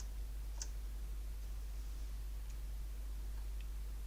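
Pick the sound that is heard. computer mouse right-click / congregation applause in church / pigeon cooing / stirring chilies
computer mouse right-click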